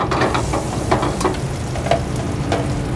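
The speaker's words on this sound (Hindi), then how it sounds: "इसमें डाल देंगे थोड़ा जीरा" Cumin seeds sizzling in warm oil in a pan, a steady close frying crackle and hiss with small pops and light stirring clicks, continuous throughout without talking.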